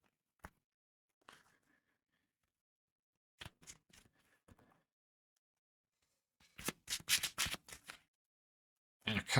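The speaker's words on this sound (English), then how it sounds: "These go back in and get shuffled." Cards are shuffled for an Arkham Horror card game, giving sparse, quiet riffling bursts and taps, then a denser run of rapid shuffling clicks near the end, with near silence between.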